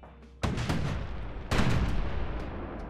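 A cannon fires in the video game Bastion, with two heavy booming blasts followed by crackling noisy decay, moderately loud and without talk.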